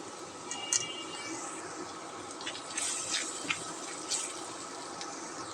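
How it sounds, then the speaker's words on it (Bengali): A little water poured into spice paste with fried garlic, salt, chili and turmeric powder in a pan, a quiet trickling and faint sizzle with a few small clinks. "অ্যাড করছি সামান্য পানি।"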